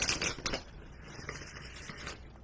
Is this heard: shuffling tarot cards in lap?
yes